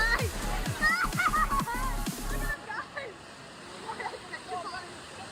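Water rushes down the Mekong Rapids slide at Siam Park, a broad steady splashing wash under a speaking voice, continuing more softly once the voice stops.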